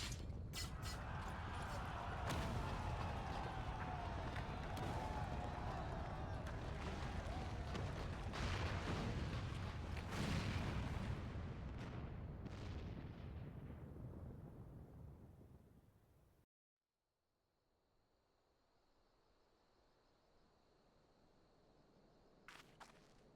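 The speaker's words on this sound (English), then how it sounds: "It must have been the cannon at Castrum, Albania." A massive cannon blast in Final Fantasy XIV brings down a tower, heard as a long, loud rumbling roar with crackling impacts that fades over several seconds, then drops to near silence with faint ambient hum afterward.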